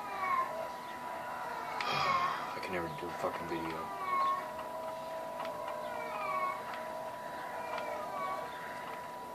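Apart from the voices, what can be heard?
cat in heat meowing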